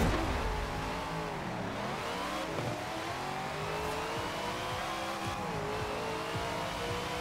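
A Dodge Charger in the racing game Forza Horizon 4 revs hard through repeated upshifts, its engine pitch climbing and dropping at each gear change, loud and continuous with no talking.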